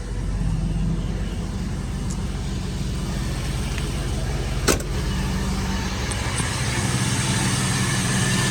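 A 1983 Ford F150 truck engine idles steadily close by with a constant low rumble, broken by one short sharp click partway through.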